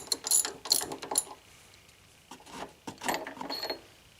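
A ratchet fitted with a T55 Torx bit works loose the motor mount bolts on a PT Cruiser GT. Quick bursts of close metallic clicking come in two rounds, separated by a short quiet pause.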